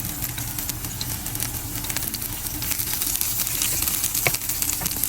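Beef and broccoli sizzling in a hot pan for an oyster-sauce stir-fry, a steady close crackling hiss with small pops running throughout, no talking.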